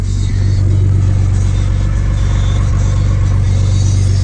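A 1979 Pontiac Firebird engine idling while warming up, a loud, close, steady low rumble with no revving.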